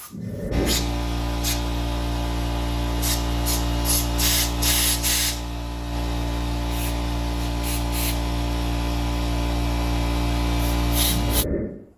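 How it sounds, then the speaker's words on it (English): Carburetor cleaner sprays steadily from an aerosol can to rinse a Mercury BlackMax 135 HP outboard carburetor, a loud continuous hiss lasting about eleven seconds with brief sputtering bursts, heard alone without talk. "Now I'm just going to rinse this off with some more carburetor cleaner."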